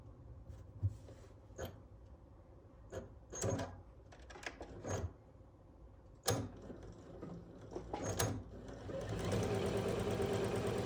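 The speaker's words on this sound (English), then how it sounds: "we'll stitch all the way down a 1/4 inch" A sewing machine stitches quilt fabric for a nine patch block, running in short whirring bursts with pauses and a steadier, faster run toward the end, close and moderately quiet.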